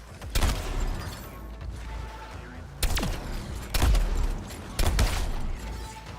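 Gunfire and heavy blasts in Suicide Squad: Kill the Justice League, a few loud broadband bursts spaced unevenly over a rumbling game background, with faint voices mixed in.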